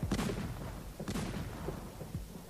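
Artillery cannon fire on a First World War front line, heard as two heavy, booming bursts about a second apart over a dense, continuous rumble of distant gunfire.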